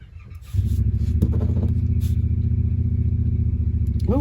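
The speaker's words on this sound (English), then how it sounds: "Oh, I hear Jason's motorcycle." A motor engine starts up and runs with a loud, steady rumble close by, a deep throbbing drone that holds without fading.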